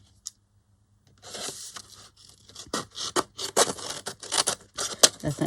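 Scissors trim a paper file folder up close, with a series of crisp snipping and scraping cuts in an uneven rhythm after a brief quiet start.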